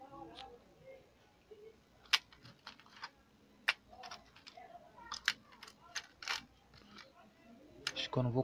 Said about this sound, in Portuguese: Agora ela vai para a parte desmontar, tirar os parafusos